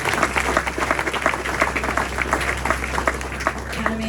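Steady applause and clapping from a crowd at a speedway press conference after a Belle Vue versus Ipswich meeting, dense and sustained for several seconds, fairly loud and close, with a faint voice underneath.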